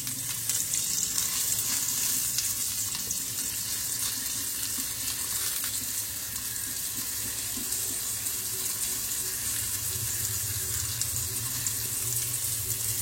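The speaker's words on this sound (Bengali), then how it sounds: "এবারে ডাঁটাটা ছেড়ে দিই, খুব হালকা ভাজবো কিন্তু।" Drumstick stalks fry lightly in a little warm white oil, giving a steady, dense sizzling hiss that runs without a break, close up and with no voices.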